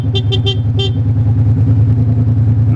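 A motorcycle horn gives four quick, loud, close beeps in a short rhythmic pattern while stopped near traffic, then the idling engine and road noise continue beneath.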